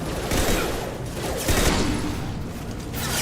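Impact shot gunfire in the Mass Effect 2 sci-fi shooter: a dense, loud wash of rapid shots and roaring noise that swells at intervals, with no clear talk over it.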